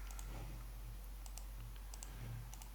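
Soft mouse clicks tap out during drafting work at a computer, a few quick pairs spread across the moment, faint and close against a steady low hum with no voices.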